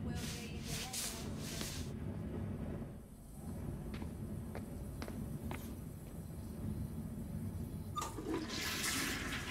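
Shower water running in Spider-Man Miles Morales, a steady broadband hiss of spraying water that dips briefly midway, with faint clicks and knocks over it.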